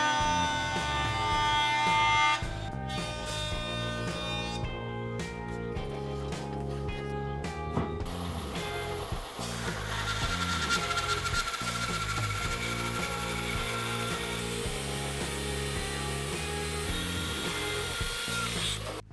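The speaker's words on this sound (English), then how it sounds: "Then I'll take this board over to the bandsaw and resaw it right down the middle to get two halves" Bandsaw resawing a cherry board down the middle for a book-matched panel, a loud steady machine whine and cutting roar heard alone, shifting in tone partway through.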